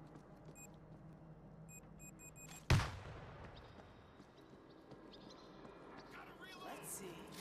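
A planted explosive charge detonates in a zombie survival video game: one sharp, loud blast that rolls off into a decaying rumble, with low game ambience and faint chimes before it.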